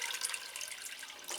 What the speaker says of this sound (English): I'll give them a good watering.